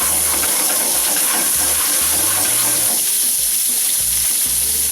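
Snapper fillets sear in a hot frying pan for a mojito-sauce recipe, a steady loud sizzle running throughout with occasional low scraping thumps as the fish is loosened from the pan.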